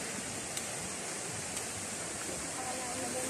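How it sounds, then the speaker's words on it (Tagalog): Steady roar of a cold waterfall in Palawan, a dense, constant wash of falling water filling the scene without a break. "Magandang falls."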